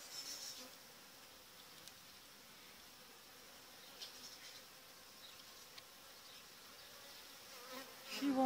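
Honey bees buzz at a hive in a soft, steady drone that fills the whole stretch, faint and continuous with a few small knocks and rustles, and no one talking.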